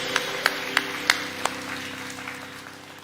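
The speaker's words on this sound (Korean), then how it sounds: "우리를 인도하신 주님께 모든 영광의 박수 올려드립니다" A church congregation at Good Shepherd Church in Korea applauds at the end of a Sunday worship service, a few sharp claps ringing out in a reverberant hall before fading into a soft wash of sound.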